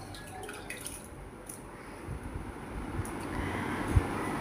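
Cut fish pieces are washed in water, a close, steady splashing and dripping that grows a little louder and ends with a sharper slosh.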